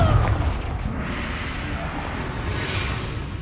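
A Confringo fire spell in Hogwarts Legacy goes off with a loud booming blast and a rushing whoosh at the start, then a rumbling tail that fades slowly.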